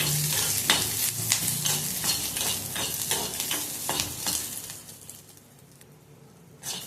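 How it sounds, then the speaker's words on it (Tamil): Ridge gourd pieces for chutney sauté in oil in a pan, with a bright continuous sizzle and rhythmic spatula strokes that grow sparser and softer toward the end. "நல்லா வதக்கிக்கிறேன்"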